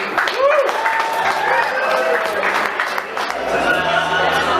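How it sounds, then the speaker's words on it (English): Applause from guests at a family memorial gathering, a broad wash of clapping with scattered voices and crowd chatter mixed throughout. "A nice round of applause."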